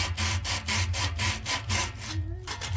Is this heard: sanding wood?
yes